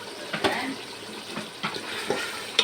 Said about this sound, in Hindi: हमारा सालन अच्छे से भुनना शुरू हो चुका है। अब देखिए इसका ऑयल भी बाहर आ रहा है